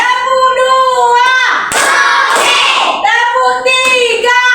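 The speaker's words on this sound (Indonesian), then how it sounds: "ini kita kasih dulu tepuk-tepuk yang buat semangat" In a classroom, students clap their hands together in a rhythmic burst, sandwiched between stretches of a teacher speaking loudly and close by.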